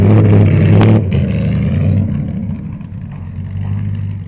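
An Alfa Romeo 8C racing car, a Le Mans and Mille Miglia winner, roars close by with a deep, loud engine note that eases off after a second and then swells again as it pulls away.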